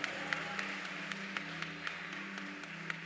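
A church congregation at a Sunday service applauds, a steady wash of many hands clapping at moderate distance, with occasional sharper individual claps standing out.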